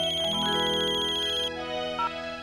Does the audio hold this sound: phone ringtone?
yes